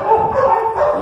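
A pit bull at a kennel gives a single close, loud, whining bark that stretches over a second.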